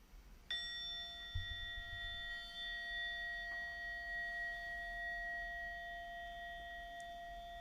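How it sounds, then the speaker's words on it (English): A meditation bell is struck once, giving a bright ring followed by a long, clear tone that fades slowly, with a soft thump shortly after and a second light tap later, in a quiet room without talking. "the bell will ring for our 18-minute period of sitting together"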